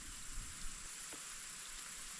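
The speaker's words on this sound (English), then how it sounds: "I think it's raining." Rain falls steadily outdoors at a camp beside a tarp shelter, a soft even hiss of drops that stays faint and constant throughout, with no voices.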